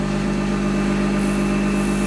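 Steady droning hum of a wood lathe spinning a barrel lid while an EasyWood 1/8 inch carbide turning tool works it, continuous and close with no talk.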